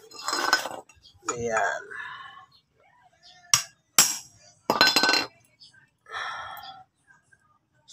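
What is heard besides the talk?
hammering a valve spring compressor on a Honda TMX engine head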